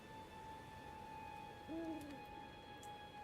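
Owl in the video game Elden Ring, giving a single soft, distant hoot over steady ambient game tones and a faint background hum, with no voices.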